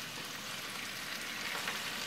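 Onions, zucchini and squash sauté in a pan, giving off a dense, continuous frying hiss at an even level with no voices.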